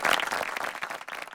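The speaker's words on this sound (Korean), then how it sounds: "여러분 다시 한번 큰 박수" Brief burst of audience applause at a Busan forum session after an academic presentation, dense clapping from a hall crowd, fairly close.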